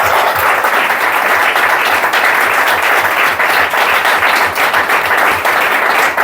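A large audience gives sustained, loud applause after a talk on the most feared ghosts, with dense, steady clapping throughout and no pause.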